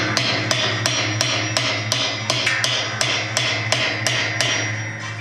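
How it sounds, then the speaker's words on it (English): Sharp metallic hammer blows strike a grip tool clamped on a stuck nut during Kenmore 80 Series washer disassembly, a steady rhythm of about a dozen ringing hits close by over a low constant hum. "we'll put a hammer on it and watch the tool break"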